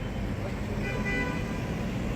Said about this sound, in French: La joie de Rouen et ses klaxons.